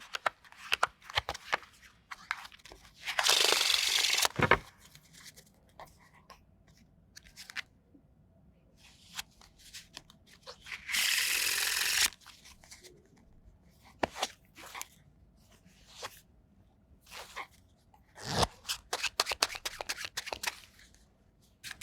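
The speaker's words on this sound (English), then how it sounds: "Brightly coloured playing cards." Brightly coloured playing cards are shuffled in two brief riffling bursts separated by quiet, with soft scattered clicks and taps in between.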